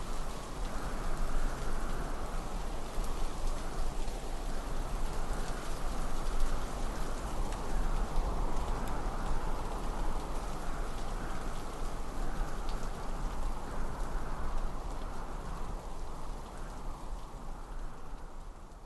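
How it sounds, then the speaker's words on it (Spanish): Steady rain pours down outdoors, a dense, even hiss of drops striking surfaces that holds at the same level throughout with no voices. "¿No sientes el golpear de la lluvia?"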